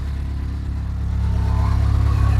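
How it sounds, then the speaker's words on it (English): A truck engine idles nearby with a deep, steady rumble that swells slightly louder partway through. "But the truck's running."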